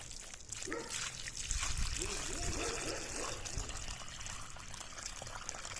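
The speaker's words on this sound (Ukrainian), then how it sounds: "Так, тепер заливаю водою" Water pours steadily into a container holding rose cuttings, a continuous splashing trickle with a noisy background throughout.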